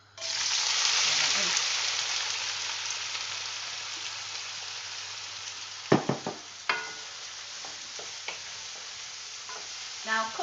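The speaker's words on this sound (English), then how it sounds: "You want the onions to go in and start sizzling straight away, and you want to hear them." Onions hit hot oil in a wok and sizzle loudly and steadily, with sharp clatters of stirring as the spoon scrapes through them partway in.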